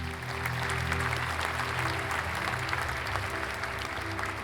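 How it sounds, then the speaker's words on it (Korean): Congratulatory applause, a soft steady patter of many hands clapping under a low sustained music bed, distant and even throughout. "여기까지 와준 내 자신에게도 축하의 박수를 보냅니다."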